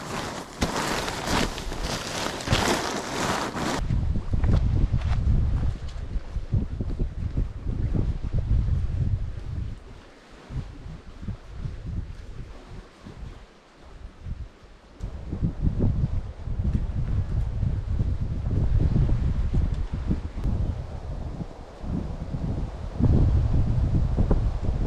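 Strong outdoor wind buffets the microphone in the wilderness at a canoe campsite, a loud continuous roar with gusty surges and a brief lull midway.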